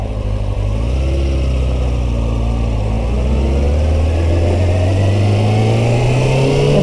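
A Kawasaki Ninja 636 motorcycle engine drones steadily while riding down the road, a loud close rumble rising slowly in pitch as it accelerates, with wind noise and no talking.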